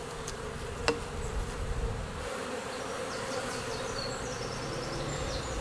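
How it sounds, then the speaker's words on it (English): Honeybees drone steadily around an opened Warre-style hive colony in spring, a dense continuous buzz close to the listener with a few sharper passes of individual bees flying near. "We're going to check inside this hive now, the one that came out of the Warre hive."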